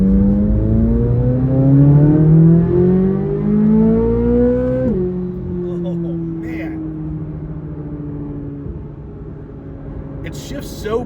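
A Chevrolet C8 Corvette E-Ray engine revving under hard acceleration while driving, its pitch rising steadily, then dropping sharply at a hard upshift and droning on at lower revs, loud and close.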